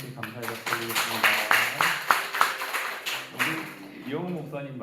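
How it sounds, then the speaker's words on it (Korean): A church congregation at a Thursday worship service claps in thanks to God. Sharp, fairly close hand claps sound beneath a prominent voice that carries on throughout. "우리 하나님께 감사의 박수 드리겠습니다."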